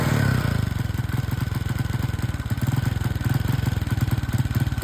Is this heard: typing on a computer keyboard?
no